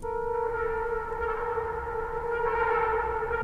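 A steady, buzzy Spitfire Labs Trumpet Fields synth tone holds one chord with stacked bright harmonics, sustained without pause and played alone, clean and undistorted, with no amp simulation.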